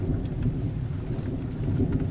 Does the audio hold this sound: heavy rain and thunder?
yes